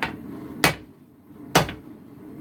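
Two sharp hammer blows forging a welded steel billet on edge, clad steel over a core, spaced about a second apart over faint background noise, with no talk.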